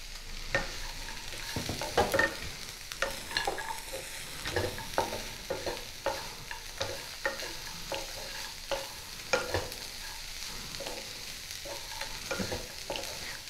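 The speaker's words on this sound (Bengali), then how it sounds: "খুব ভালো করে মিশিয়ে দেব।" Fried bitter gourd and onions stirred together in a pan over low sizzling, with a repeated irregular scrape and clack of the spoon against the pan, close and fairly quiet, and no talking.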